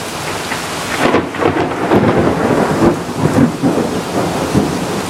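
Close thunder rumbles and cracks through a thunderstorm, loud rolling booms layered over steady heavy rain on surfaces, with no voices.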